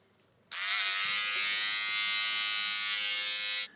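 An electric shaver buzzes steadily and close up for about three seconds, starting abruptly and cutting off cleanly, with a dense bright hum and no talking, during a shave on a travel day.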